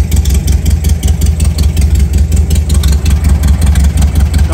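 A 1973 VW Beetle engine with a shortened exhaust tip runs steadily at close range, a loud, throbbing, crackly air-cooled rumble with rhythmic pulsing and no talk.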